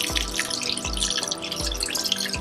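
Water poured onto rice in an Instant Pot, a few splashy gushes with dripping between, close and fairly soft, no talking.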